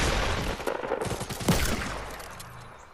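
Fortnite gunfire, a rapid burst of overlapping shots in a dense, noisy game soundscape that fades out toward the end.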